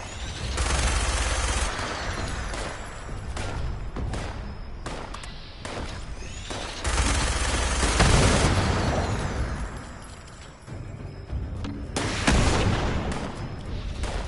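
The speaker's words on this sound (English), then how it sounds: "Someone's got a missile launcher down there." Repeated loud blasts and explosions in a Fallout game, missile launcher fire mixed with sustained gunfire, arriving in several heavy bursts across the stretch, with no talk.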